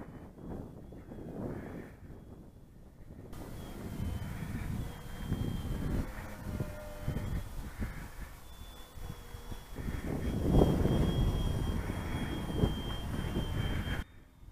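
Engine of a model Sopwith Triplane aircraft droning steadily in flight, a continuous mid-level hum that swells louder toward the end, with faint wind rush and no talking.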